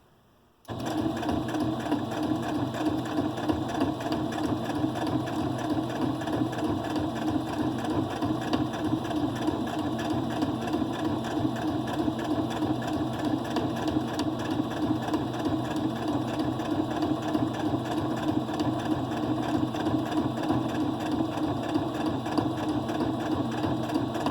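A sewing machine stitching a fabric needlework journal starts up after a brief quiet moment and then runs in a steady, fast, even mechanical whir, close and continuous throughout with no one talking.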